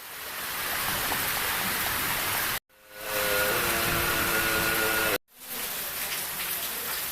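Heavy slanting summer rain in Huế pours down as a steady hiss of drops on surfaces, broken by two abrupt cuts; a faint tonal hum shows in the middle stretch.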